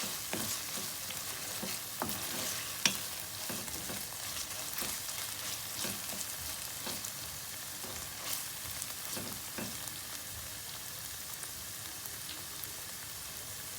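Butter melts and sizzles with meat in a pot for Turkish okra soup. The frying hiss runs steadily, with soft irregular stirring clicks, close and fairly quiet, and no one speaks.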